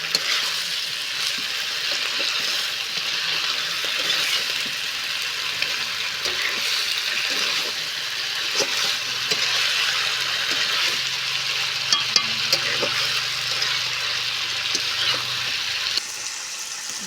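Rohu fish curry with malabar spinach sizzles steadily in a pan as it is stirred and fried, a continuous close crackle broken by occasional scrapes and clinks of the spoon, with no talking.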